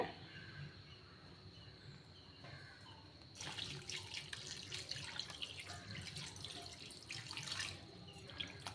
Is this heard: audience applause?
no